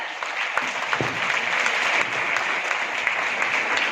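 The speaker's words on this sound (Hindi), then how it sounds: "इस डिसीजन के लिए अपने आप के लिए जोरदार तालियां बजाएं।" Loud, steady applause from an audience, dense clapping filling the whole stretch without pause.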